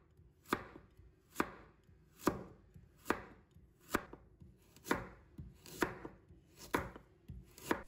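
A knife slices through a carrot on a cutting board at a steady, unhurried pace, about ten crisp chops in a row. Each stroke lands cleanly and close-up, with no talk.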